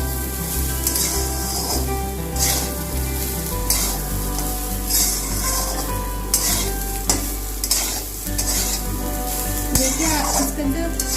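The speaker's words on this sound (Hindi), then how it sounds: "अभी इसको फिर से थोड़ी देर के लिए चला दूँगी ताकि शुगर जो है वो मेल्ट हो जाए।" Saffron rice being stirred in a hot pan with sugar and salt, a steady close sizzle and frying crackle running throughout with repeated scraping strokes of a spoon against the pan, no talking.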